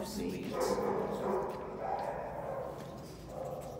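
A dog squeals and yips in short high bursts, close by, mixed with soft whimpering and a person's voice speaking in between.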